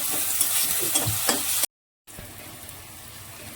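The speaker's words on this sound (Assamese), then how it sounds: "প্ৰথমতে পিঁয়াজটো গোল্ডেন ব্ৰাউন হোৱালৈকে ভালকৈ ভাজি ল'ম।" Steady high sizzling of onion and spices frying in a pan with a few stirring scrapes, cut by a brief silent gap before the sizzle resumes more quietly.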